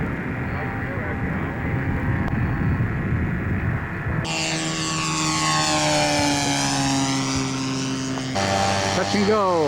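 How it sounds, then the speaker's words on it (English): Scale model P-47 flying past on a touch and go, its propeller engine droning steadily and swelling with a Doppler-like pitch sweep as it passes near, over a busy outdoor airfield background, with some voices heard. "Touch and Go by Wayne Seward's P-47"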